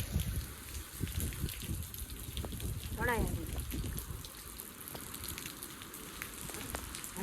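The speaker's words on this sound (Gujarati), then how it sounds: "ફૂલ વરસાદ આવી ગયો છે મિત્રો" Heavy rain falls in a forest near a Mahadev temple, a dense steady wash of drops hitting leaves and ground throughout, with a brief voice-like warble partway through.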